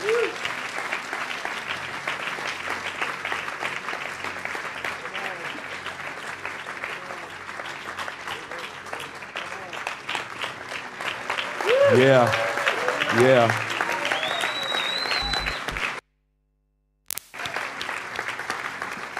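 A congregation at a Sunday morning family church service keeps up steady applause, with voices shouting over it midway and a short dropout near the end before the clapping resumes.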